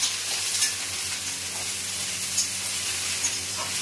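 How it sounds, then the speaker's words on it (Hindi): Mixed vegetables for khichdi fry in a pan with a steady, dense sizzle and hiss. A few faint stirring scrapes sit on top of the frying, close by, with no talking. "हमारा ये सब्जी भी भून रहा है"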